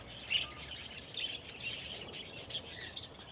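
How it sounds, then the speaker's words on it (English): High, thin chirps from young birds repeat in quick bursts at a moderate distance, faint and continuous against quiet outdoor background. "I have some baby birds coming out of the boxes."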